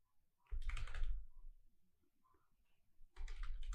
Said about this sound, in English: I'm going to type the heading tag